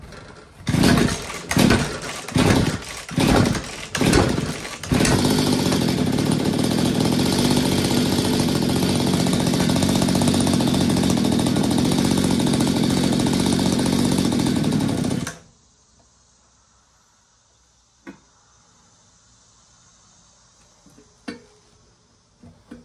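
A Mantis tiller engine, bought at auction and being revived, revs hard in a few short bursts and then holds a loud, steady raised idle for about ten seconds before cutting out, leaving near silence with a couple of faint knocks.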